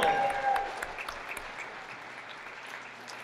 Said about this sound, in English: Let's give a round of applause to our duets, Keeley Kenobi and Jaden Hill.